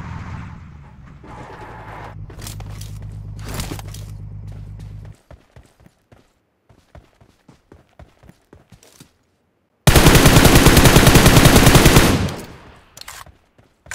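Gunfire in the PUBG Mobile battle-royale game, with a rumble from about 0 to 5 seconds, a string of sharp separate shots, then a loud dense burst near 10–12 seconds.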